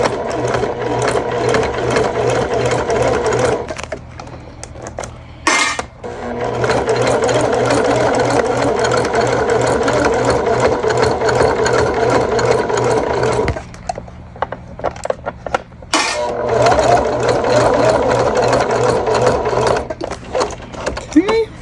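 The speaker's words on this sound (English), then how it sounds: "So we're just going to do one line of stitching across that." A sewing machine runs a line of stitching across a fabric bag in long steady bursts of rapid, close mechanical whirring, broken by two short pauses; a voice speaks faintly at moments.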